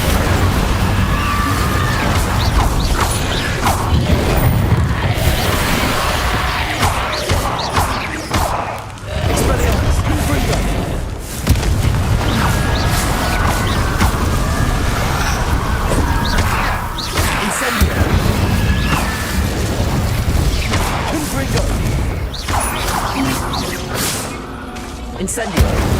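Fire spells cast in Hogwarts Legacy produce a dense, continuous roar of crackling bursts, whooshes and crashing impacts. The sound stays loud throughout with only brief dips, and a voice is heard under the din.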